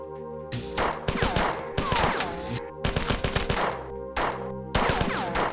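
Bursts of automatic gunfire from a gun in the video game Marathon, rapid loud volleys broken by short pauses, with no talking.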